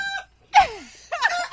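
A rooster crows loudly and close by in short bursts, a harsh descending call followed by another rising cry, with no speech over it.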